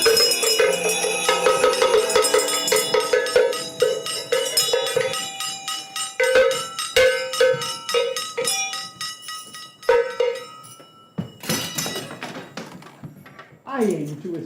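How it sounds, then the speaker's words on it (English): Ringing bells chime repeatedly over music with a singing voice, bright metallic tones layered throughout. "In my head the bells are ringing."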